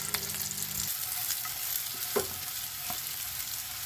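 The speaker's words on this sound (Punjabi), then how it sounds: "ਆਲੂ ਆਪਣੇ ਵਧੀਆ ਫਰਾਈ ਹੋ ਗਏ" Potatoes frying golden in oil for palak dum aloo, a quiet steady sizzle with a few soft stirring clicks over a short stretch.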